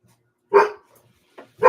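Dog barks three times at close range in a home: two full barks with a short softer yelp between them, separated by silence.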